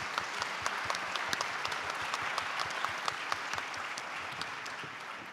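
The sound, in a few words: audience applause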